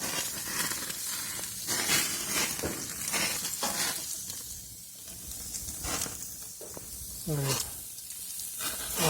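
Bacon-wrapped blackbird poppers sizzle loudly on a grill, with bursts of hissing and crackle that swell and fade. A brief voice-like sound appears near the end.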